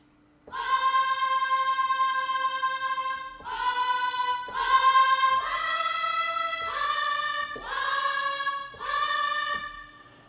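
A synthesized choir pad sings sustained chords alone, shifting through several swells with sharp onsets, rich and bright.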